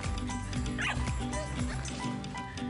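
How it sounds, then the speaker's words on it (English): A two-month-old puppy at an animal shelter gives repeated high yips and whimpers close by, over a busy background with voices. "Lee's rescue dog Pickles is here this morning to help introduce us to today's pick."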